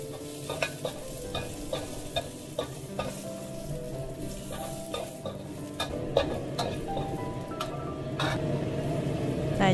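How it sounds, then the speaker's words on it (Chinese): Dried chili peppers stir-fried in a wok over low heat produce a soft continuous sizzle, punctuated by frequent sharp spatula scrapes and clinks against the metal, close up and without talk. "加入干辣椒，转小火煸香。"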